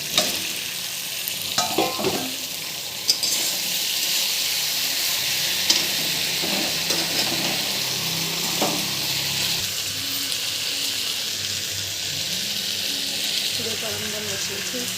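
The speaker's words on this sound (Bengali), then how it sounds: "সবজিটা ভালো করে ভেজে নিচ্ছি।" Vegetables, including thick eggplant, sizzle and fry in a pan with spices, a steady broadband hiss running throughout with occasional stirring clatters near the start.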